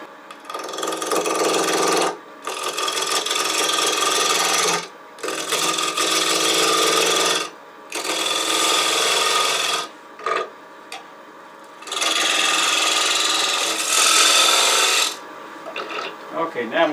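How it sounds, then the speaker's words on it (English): A 3/8 inch bowl gouge cuts a spinning wooden workpiece on a lathe, turning a donut-shaped bellmouth velocity stack for dust collection; a steady broadband shearing rasp comes in several long, close bursts separated by brief pauses. "I'm going to take a small 3/8 inch bowl gouge and I'm going to turn it around and start turning that donut"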